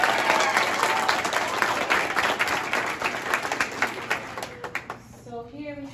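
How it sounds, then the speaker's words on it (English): An audience at a high school JROTC awards event applauds with a loud, dense burst of clapping that gradually thins out, and a voice begins speaking at the end. "So if you give us another round of applause for them,"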